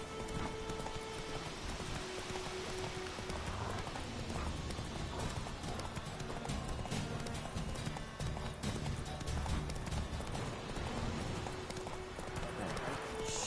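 Roach the horse's hooves clip-clopping in a steady galloping rhythm across the ground in The Witcher 3: Wild Hunt, continuous throughout amid ambient game sound, with someone talking over it.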